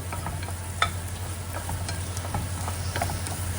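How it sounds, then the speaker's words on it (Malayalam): Tomatoes go into a curry base frying in a pan for green peas curry, giving a steady close sizzle with scattered spoon scrapes and light clinks throughout, no talking. "തയ്യാറാക്കിയ കൂട്ടിലേക്ക് നമ്മൾ തക്കാളിയും കൂടി ഇട്ട് കൊടുത്തു."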